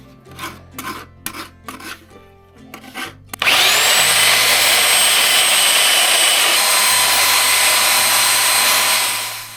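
A belt sander grinds against a wooden rattlesnake walking stick, starting abruptly after a few light knocks and handling sounds, then running as a loud, continuous, close rasping roar until it winds down.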